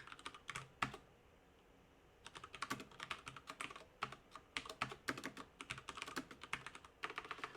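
Quiet, close typing on a computer keyboard while writing a test program, irregular bursts of key clicks with short pauses and no speech.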